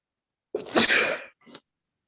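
A single sharp sneeze, loud and close, followed a moment later by a short sniff or small exhale.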